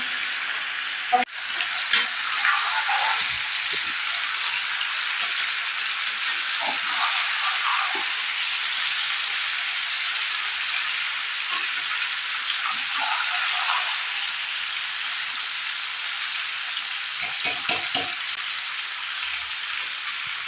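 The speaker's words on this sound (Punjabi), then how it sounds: "ਦੇਖੀ ਜਰਾ ਚੰਗੀ ਤਰ੍ਹਾਂ ਤੜਕਾ ਲੱਗ ਜਾਣਾ ਇੰਨੇ ਸਵਾਦ ਬਣ ਜਾਣੇ ਨੇ ਦੀ ਸਬਜ਼ੀ ਨੂੰ" Vegetables fry in a pan with a tadka tempering, a dense continuous sizzle with occasional clicks of stirring throughout.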